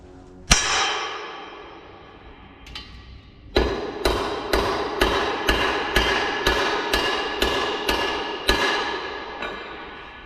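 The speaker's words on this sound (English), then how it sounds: "with my punch, I just mark the back hole" A hammer strikes a metal punch to mark a rivet hole on a whisky barrel hoop: one sharp ringing clang, a pause, then about ten evenly spaced metallic blows, loud and close with no talk.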